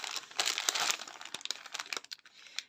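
Crinkling plastic packaging being unwrapped from a Snow White diamond painting canvas, a run of close, busy rustles and crackles that thin out toward the end.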